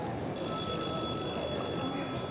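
A steady ringing bell tone from a working model engine, sustained over its low mechanical rumble, close and fairly quiet, with no pauses.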